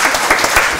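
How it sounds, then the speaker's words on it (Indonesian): Short burst of audience applause at an Indonesian comedy show, loud dense clapping filling the whole moment with a few sharper surges, no talk over it. "Tepuk tangan dulu Bapak Sakit Sabara."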